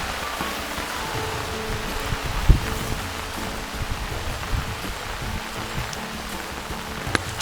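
Heavy rain pours down steadily at a coffee estate, a constant hiss of drops on surfaces with a few sharper knocks, no voices heard.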